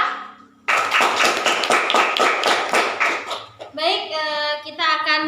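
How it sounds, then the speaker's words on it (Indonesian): An audience at an Indonesian talk show applauds a guest in a burst of rhythmic clapping that starts suddenly, loud and close, before a voice takes over at the end. "beri tepuk tangan sekali lagi untuk bintang tamu kita"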